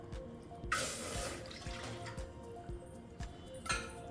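Milk poured into a pot makes a short splashing gush near the start, then a faint, brief trickle again near the end.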